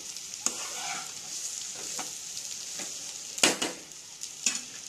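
Chicken fried rice is stir-fried on high heat with a constant close sizzle, broken by sharp scraping clatters of a spatula against the pan, several louder strikes near the end, and no talking.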